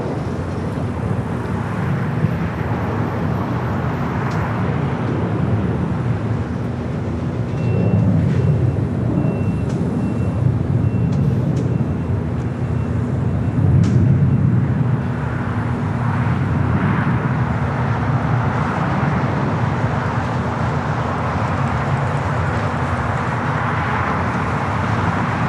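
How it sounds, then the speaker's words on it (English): A Boeing Dreamliner airliner, flight 8 from Papeete, arrives on the south side of LAX, its broad engine roar steady and moderately distant, swelling slightly midway amid background traffic and ground-vehicle noise. "Dreamliner up next for arrival here on the south side. It's flight 8 coming in from Papeete."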